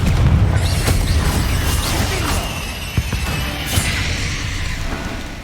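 Confringo fire spell explosion in the Hogwarts Legacy video game: a loud booming blast that rumbles and crackles for several seconds, with a couple of sharp pops near the middle and the end, and no talk.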